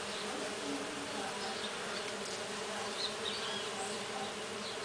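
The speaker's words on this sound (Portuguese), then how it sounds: "Ah, acho que dá pra ver a quantidade de abelha." Many Melipona stingless bees hover around flowering ora-pro-nobis, giving a steady, soft, unbroken hum of wings with faint higher buzzes drifting past.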